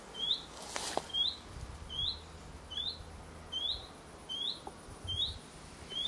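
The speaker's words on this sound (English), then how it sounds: "I think that's a bird." A bird in an abandoned farmhouse giving short high chirps repeated at a regular pace, faint and somewhat distant, over a quiet room tone with occasional small knocks and rustles.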